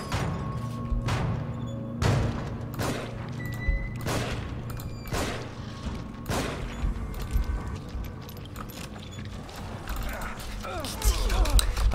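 A heavy mechanical door grinds open in The Evil Within survival horror game, with a series of loud clanking thumps and creaks roughly every second, followed by rattling gears and ratcheting machinery as it finishes moving.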